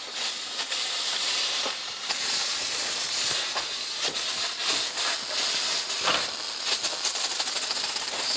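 A small homemade model steam engine with an automatic water feed runs with a steady, loud hiss of steam, broken by faint rattles and soft repeated puffs and heard without talk.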